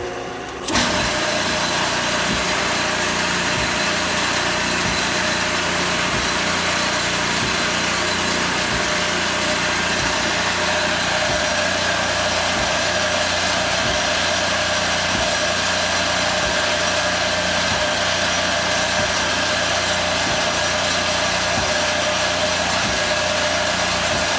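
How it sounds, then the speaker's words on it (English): A tractor engine idles steadily and loudly throughout, a constant rumbling drone with a faint rhythmic chug and no other sounds. "That is my tractor I drive"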